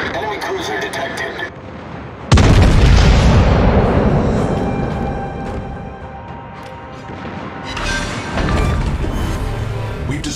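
Heavy naval artillery salvos in the World of Warships game, a loud booming blast that erupts suddenly and rolls on with rumbling echoes, then another big boom near the end, with game voice lines over it.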